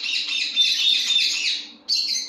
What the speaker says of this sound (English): The birds are being very chatty today.